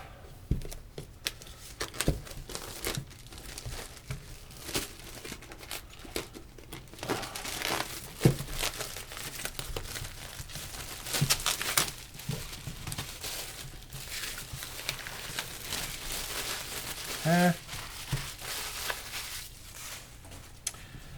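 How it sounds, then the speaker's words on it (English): Plastic wrap being pulled off a War Room board game map, steady crinkling and rustling with scattered crackles and snaps, close and fairly quiet throughout. "We've got some plastic wrap here to cut off."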